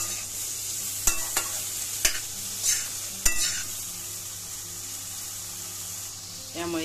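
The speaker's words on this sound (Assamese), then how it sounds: "এয়া মই ৰঙালাও আৰু বেঙেনাখিনিও আলুৰ লগত ভালদৰে ভাজিম।" Pumpkin and eggplant frying with potatoes in a pan: a steady low sizzle runs throughout, broken by several sharp scraping knocks of a spoon stirring at close range, with no talking.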